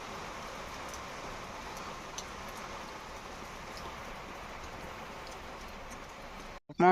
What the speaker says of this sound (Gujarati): થોડોક ધીમો પીડો ને પાછો જો ચાલુ થઈ ગયો અત્યારે વરસાદ